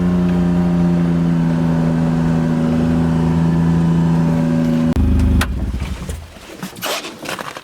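A Gator utility vehicle's engine idles with a steady, loud hum for about five seconds, then cuts off abruptly, leaving a few clunks and scattered rustling noises.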